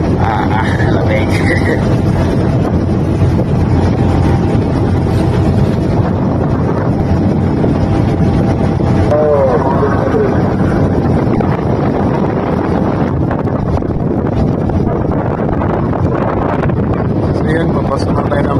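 A boat heading back toward Lucena through strong waves in wind and rain, with constant loud wind buffeting and rushing water that drown out most detail, and voices speaking faintly underneath.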